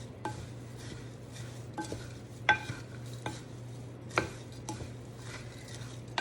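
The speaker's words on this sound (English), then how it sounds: "Then I'm gonna use my spurtles" Granola oats and oil are stirred in a bowl with wooden spurtles, giving soft, scattered scraping and knocking strokes at an uneven pace over a steady low hum, fairly quiet and close, with no talking.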